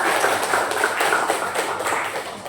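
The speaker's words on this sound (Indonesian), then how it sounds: "Tepuk tangan lah." Classroom applause breaks out, a dense steady patter of many hands clapping together for a couple of seconds, with no voices over it.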